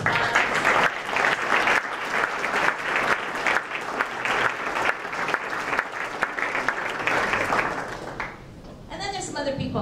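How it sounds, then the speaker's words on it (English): Sustained applause from an audience at a ribbon cutting ceremony, dense steady clapping for about eight seconds that then fades out as a voice begins speaking. "Round of applause."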